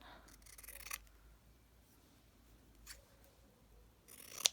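Scissors snip through a mostly green patterned fabric for a patchwork leaf, making a few brief, quiet cuts spaced out between near silence.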